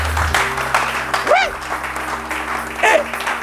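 Church congregation clapping: steady, dense applause from a crowd, with voices calling out through it, continuous across the whole stretch.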